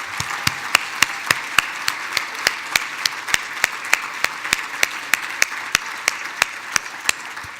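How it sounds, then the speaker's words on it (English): An audience applauding steadily at a chamber of commerce annual dinner, a dense wash of clapping punctuated by regular sharp claps roughly three times a second, sustained and fairly loud throughout. "if we applause her again, it might be loud enough that she could hear us"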